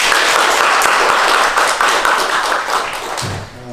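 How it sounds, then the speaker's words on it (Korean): Audience applause welcoming a guest speaker at a Korean media management conference talk concert, dense steady clapping that thins and fades toward the end as a voice begins. "여러분 김수익 부장님을 큰 박수로 맞아주시기 바랍니다."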